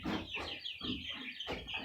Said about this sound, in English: Here's a couple of Rhode Island Reds that are getting ready to go to the next stage.